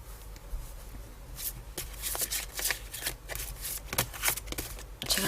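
Tarot cards being shuffled by hand, a run of soft riffling and flicking bursts at an uneven rhythm, close and quiet.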